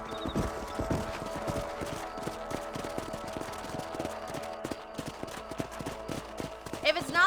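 Horse hooves clip-clop steadily in Red Dead Redemption as riders move out to patrol a ranch property, a continuous rhythmic trot under a busy game mix with faint voices and a brief sharp noise near the end.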